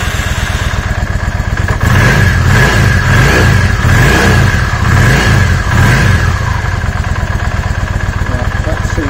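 A Yamaha XVS650 Dragstar motorcycle engine runs loud and close after a laboured start, revving up repeatedly in rhythmic bursts before settling back to a steady idle.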